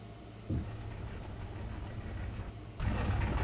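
Ford GT40 engine running in the video game Car Mechanic 2021, a steady mid-pitched engine drone that rises and gets louder in steps as it revs, heard alone without talk.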